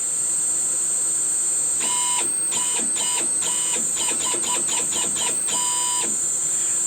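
A CNC lathe's stepper motor stalling under a troubleshot controller, a loud steady high whine broken by stuttering, pulsing tones and on-off bursts as the motor fails to step properly.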